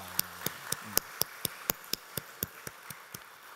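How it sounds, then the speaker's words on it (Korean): A dozen sharp, isolated hand claps in a church setting after a choir performance, evenly spaced and fairly close, each distinct against a quiet background, tapering off slightly toward the end. "우리 박수 한번 해주시다"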